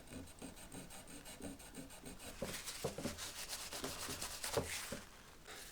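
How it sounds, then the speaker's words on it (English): A cotton bud dipped in acetone is rubbed over a Stratocaster guitar part, making a close, rhythmic scrubbing and rasping that grows slightly louder and busier midway. "a little bit of acetone on a cotton bud will clean up the worst of that."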